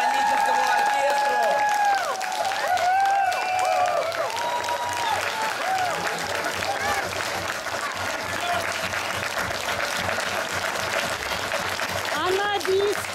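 Audience applause for a singer and a symphony orchestra at an outdoor charity concert in Perovsky Park, Moscow: steady, dense clapping from a large crowd throughout, with a voice speaking over it and some whistling.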